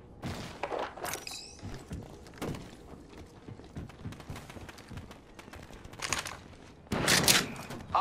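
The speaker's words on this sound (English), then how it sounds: "I shot down a cargo bot." Scattered gunshots and bursts ring out across an Apex Legends match as a cargo bot is shot down, with sharp cracks spaced irregularly and a heavier volley near the end, mixed with footsteps and game noise.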